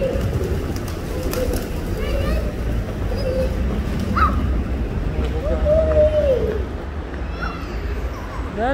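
Soft pigeon coos repeat now and then over a steady low rumble and background chatter in Berlin, Germany, with a few higher bird chirps mixed in.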